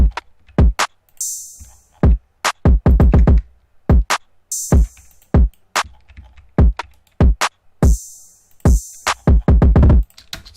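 Programmed drum pattern for an anime-style beat, with punchy kicks, snappy claps and sharp snare hits plus bright noisy hi-hat bursts in a steady repeating groove, loud and dry with no voices.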